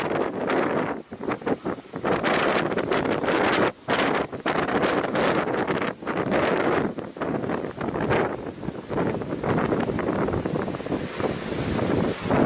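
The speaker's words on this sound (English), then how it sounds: "A small fishing boat passes powerful waves near the rocks." Powerful ocean waves breaking near rocks as a small fishing boat passes, a continuous loud roar of surf and crashing water with heavy wind buffeting the microphone throughout.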